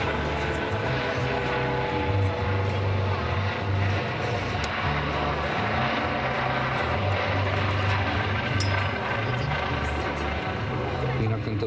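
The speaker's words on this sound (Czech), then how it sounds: "Tento vrtulník je dnes v plné operační hotovosti" A rescue helicopter at an air show airfield runs steadily for the whole stretch, a continuous loud rotor and engine roar with a low pulsing throb, no voices standing out.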